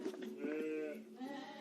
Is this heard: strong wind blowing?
no